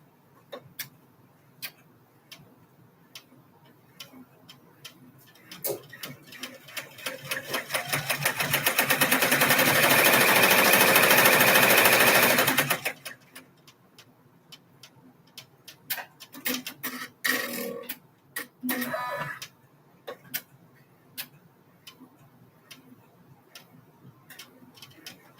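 Embroidery machine stitching an applique tack-down for a shoe design, rapid mechanical ticking that builds into a loud, steady whirring run, then stops and resumes in short clattering bursts.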